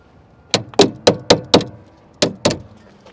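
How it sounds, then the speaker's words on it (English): Someone strikes a Corvette's headlight motor with a hard object, giving seven sharp, metallic knocks in an irregular rhythm, five closely spaced and then a pause before two more, each loud and close with a quick decay. "If I tap that motor hard enough, then a lot of times I can get this headlight to go."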